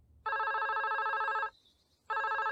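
A cartoon telephone rings in two electronic trilling bursts, the first long and the second starting after a brief pause, clear and close with no talking.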